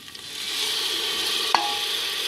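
Onions frying in a pan as tomato paste goes in and gets stirred, a steady sizzle with one brief clatter partway through.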